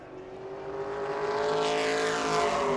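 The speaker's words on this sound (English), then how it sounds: "First lap in the books there for the 42 machine." Race car number 42 in World Series qualifying at New Smyrna Speedway, its engine a steady, loud roar that climbs gradually in pitch as the car speeds down the track, with no voices over it.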